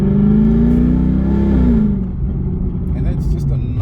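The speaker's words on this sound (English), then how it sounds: "how do you not stay away from the throttle with this exhaust note?" A 2007 Mercedes-Benz CLK63 AMG with stainless steel exhaust pipes revs up in a gentle acceleration, a loud rising exhaust note from inside the car that drops to a lower rumble halfway through.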